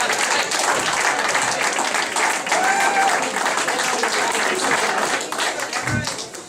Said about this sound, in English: let's have a wee round of applause for the Ember Red and Whites